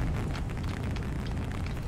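A deep, continuous roaring rumble of a rocket engine at full thrust during a launch in Call of Duty: Black Ops, dense and steady throughout.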